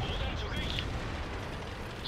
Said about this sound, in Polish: Strzał.